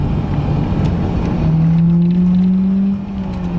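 A car engine during a heel and toe downshift under hard braking, a loud close drone whose pitch swings upward in a quick rev blip, then settles lower as the gear engages.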